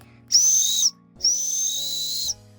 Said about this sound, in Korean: 진짜 방범용 호루라기인가? 왜냐면 사운드가 너무 시끄러운데?